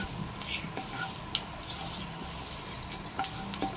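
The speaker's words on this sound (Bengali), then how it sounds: "তেল গরম হয়ে গেছে। এর মধ্যে তেজপাতা, শুকনো লঙ্কা আর দুটো এলাচ আর দিলাম গোটা জিরে।" Bay leaf, dried chilli, cardamom and whole cumin sizzling in hot oil in a pan, a soft steady crackle with scattered pops and light stirring clicks, close but fairly quiet.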